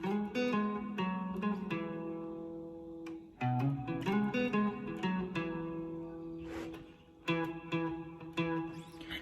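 An electric guitar plays lead licks from a song's solo: clear, sustained single-note phrases with slides and bends that ring out in short bursts, separated by brief pauses, played alone.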